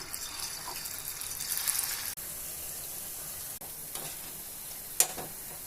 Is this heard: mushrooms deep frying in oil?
yes